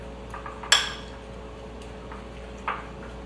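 Two sharp clinks of a utensil striking a bowl while Sir Kensington avocado-oil mayonnaise is mixed, one strong and one softer, close by over a low steady room hum.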